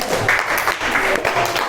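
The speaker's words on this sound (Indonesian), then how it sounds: "Beri tepuk tangan untuk Mbak Mariska." Audience applause after a school presentation of a personal letter, steady clapping filling the short moment with some voices mixed in.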